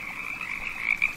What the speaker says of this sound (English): Frog. Oh, 1, 2, 3, 4 frogs.